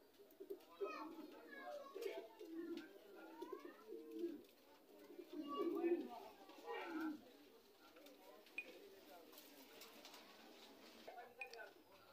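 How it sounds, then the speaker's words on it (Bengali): Several large Homa pigeons, one plain and one chocolate-coloured, coo in repeated soft throaty phrases at a sale, steady and fairly close, with faint children's voices and background chatter. "আপনারা এখন দেখতে পাচ্ছেন এখানে খুব বিগ সাইজের দুইটি হোমা"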